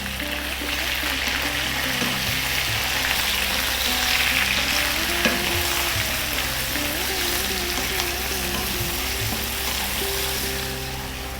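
Onions sizzle and fry steadily in a pan over medium heat for an Indian chicken curry, a continuous loud crackle with occasional stirring and background hum, no talk.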